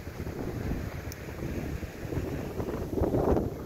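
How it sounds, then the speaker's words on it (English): Strong wind at the Apache Falls overlook buffets the microphone in a continuous low roar, gusting louder toward the end. "it's too windy"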